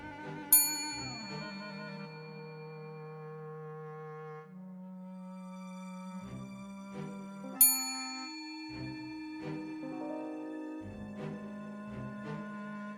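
Bell chimes ring out in a slow melodic sequence, several clear struck tones with long ringing decays, a couple of sharper strikes standing out, fairly soft and alone.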